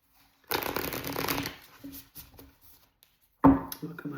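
Playing cards being shuffled by hand during a tarot-style reading, a dense riffling burst lasting about a second, then softer handling and a second sharp riffle near the end.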